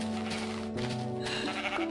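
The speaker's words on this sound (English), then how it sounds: "Come here, sheep." Minecraft sheep bleating in a quavering, wavering cry that repeats a few times over two seconds, fairly quiet and close, mixed with faint game background tones.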